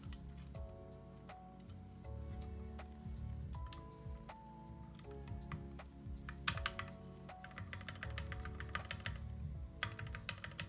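Steady typing on a custom KBDfans aluminum-case mechanical keyboard: a dense run of crisp, close keystrokes with occasional louder clacks, over quiet background music.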